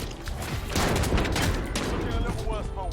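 Rapid Desert Eagle pistol fire in a video game, a dense barrage of loud close shots with explosive booms, no voices over it.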